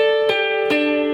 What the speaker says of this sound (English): I have my electric guitar out right now because we're going to play that little synth line in the opening on here